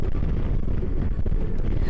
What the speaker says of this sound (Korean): 바람소리에 묻혀 음악도 제대로 귀에 들어오지 않네요